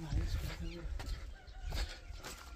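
A rooster in rural Sindhupalchok, Nepal, gives a few short, faint clucks early on, mixed with people talking quietly and soft background noise.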